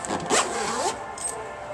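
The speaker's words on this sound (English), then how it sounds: "zip it up" A zipper on a 2011 Jeep Wrangler soft top is pulled closed in one quick, rasping stroke with a second short pass, close by and loud, followed by a quiet pause.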